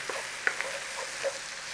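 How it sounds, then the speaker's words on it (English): Garlic frying in a pan with mushrooms, stirred through: a soft, steady sizzle with a few scraping clicks and knocks from the stirring, close and quiet, no voices. "Nice little 30 seconds and stir it in."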